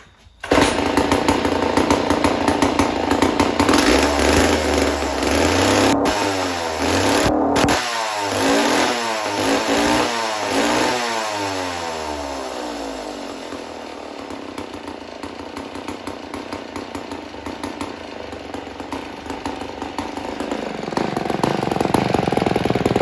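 A vintage Sears chainsaw engine fires up and runs loudly and close, a steady two-stroke buzz with rising and falling revs before it settles toward a rough idle.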